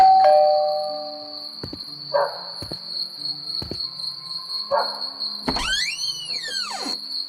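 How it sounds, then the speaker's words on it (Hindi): A doorbell chimes at the start over a steady high cricket drone, followed by scattered thumps and a sweeping electronic tone. "कि तभी उनके घर की डोरबेल बजी"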